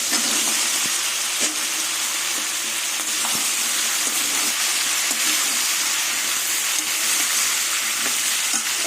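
Snake gourd, potato and green chilli fry in a pan with oil after prawns, a dense, continuous close sizzle and hiss with faint scraping stirs, no voices.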